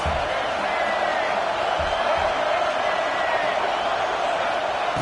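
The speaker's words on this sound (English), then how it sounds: "This crowd trying to make life miserable for this offense." Roaring football stadium crowd during an Alabama game, a steady loud wash of cheering noise with no breaks.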